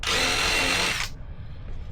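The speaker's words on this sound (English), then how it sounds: "take a drill bit, drill you a couple of holes like this" A drill bit bores holes in a small Vans T2 shoe, a loud, close, high whining buzz for about a second before it cuts off abruptly into near quiet.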